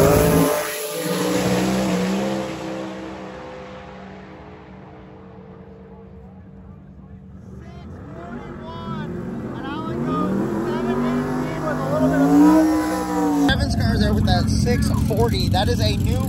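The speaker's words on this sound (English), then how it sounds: "the fastest radial car ever to go quarter mile in Dragon Drive" A radial drag racing car making a quarter-mile run, its engine roaring and revving with rising and falling pitch, passing from near to far, while people talk excitedly over it.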